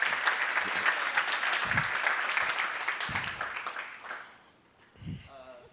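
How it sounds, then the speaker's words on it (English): Steady applause from a seminar audience at a personal branding session, a dense wash of clapping that fades out after about four seconds, followed by a few faint handling knocks and a murmur. "Please give Leslie a round of applause for being such a good sport"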